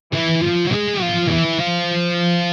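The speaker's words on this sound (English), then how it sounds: "So the harmonized guitar sounds like this." A distorted electric guitar plays a short harmonized riff of sliding octave notes, loud and sustained, with no talking.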